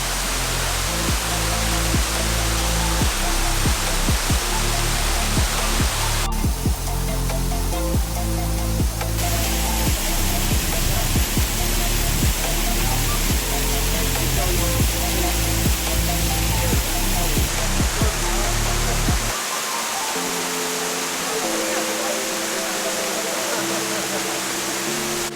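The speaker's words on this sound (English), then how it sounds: "I can hear water going." Steady rushing water flows at the Mandai rainforest park in Singapore, a broadband wash that continues for about twenty seconds near the tiger enclosure, then drops away to quieter ambience with faint background sound.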